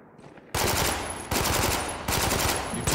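Three loud bursts of sustained automatic gunfire from Spec Ops: The Line, each lasting under a second, with no speech over them.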